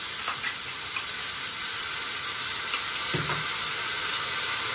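Steady, loud sizzling hiss of vegetables for shukto frying with ginger paste in a hot pan, continuous throughout with a few faint clinks.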